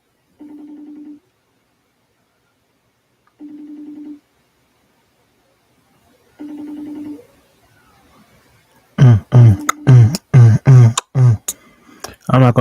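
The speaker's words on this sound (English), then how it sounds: "Normally, I don't even let the phone ring that long." An outgoing phone call rings three times, evenly spaced steady tones a few seconds apart with silence between, before a voice begins talking loudly at the end.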